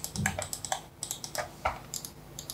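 Crisp, light clicks from the buttons of a USB gaming mouse from a best-selling budget gamer kit, tapped in quick irregular bursts close to the microphone with no talking.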